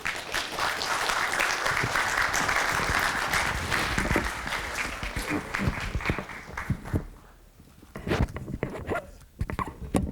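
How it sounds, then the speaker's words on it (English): An audience at an aviation talk about SafeSky applauds warmly, a fairly quiet patter of claps that fades out midway before a few scattered claps and shuffling noises return. "A warm applause."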